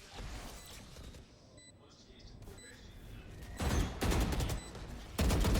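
Bursts of gunfire from the Valorant video game during a Sentinels versus Gen.G match, with sharp rapid shot volleys coming in clusters, loudest toward the end, over a steady background of game sound.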